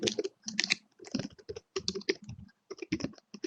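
Fast typing on a computer keyboard makes a rapid, close clatter of key clicks in uneven bursts, with brief pauses, and it runs alone throughout.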